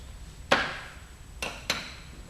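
A metal weight distribution plate is fastened onto a SmartMount backrest mount on a Honda GL1800 Gold Wing, with one sharp close knock followed by two lighter taps in quiet surroundings.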